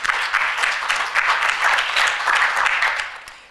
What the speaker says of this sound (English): can I have a round of applause for Diana?